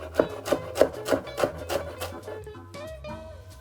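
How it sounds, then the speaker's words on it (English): A knife finely chops a handful of rolled-up mint leaves on a board, with about seven steady, close strokes that soften and fade toward the end. "a handful of mint leaves, you want to roll this up and then finely chop it as well"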